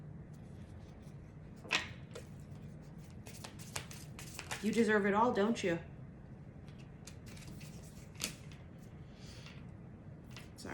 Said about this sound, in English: Sorry, I shuffled it backwards.